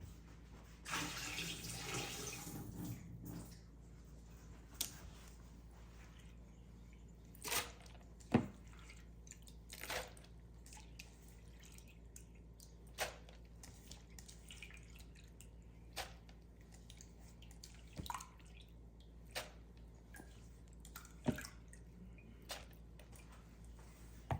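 Soaking liquid drained off urad dal begins as a short, splashing pour, then tapers into faint, scattered drips spaced a few seconds apart in a quiet kitchen.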